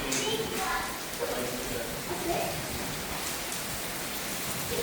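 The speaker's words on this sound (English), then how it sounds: "Look at this rain. Here it comes." Steady rain pouring down during a storm near a house and pool, a dense, even hiss of drops that runs the whole time, with faint voices underneath.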